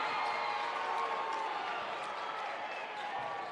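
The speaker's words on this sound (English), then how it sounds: "the crowd didn't like that call" A crowd at a West Virginia boys high school basketball game between Wyoming East and Bluefield murmurs and boos steadily in a gym after an offensive foul call, a continuous wash of voices.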